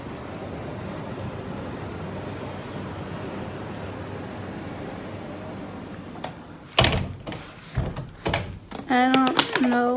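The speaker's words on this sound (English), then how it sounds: "Oh no, this door is open too." A door pulled shut after a stretch of steady wind-like background noise, with a few sharp thuds and knocks in quick succession, followed by a voice talking close by.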